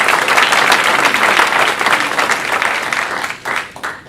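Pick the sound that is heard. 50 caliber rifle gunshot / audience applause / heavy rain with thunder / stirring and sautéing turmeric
audience applause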